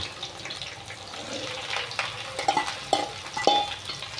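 Sliced okra pieces drop into hot tempering of onion, garlic and green chillies, giving a soft sizzle with stirring and a few sharp utensil clinks near the end.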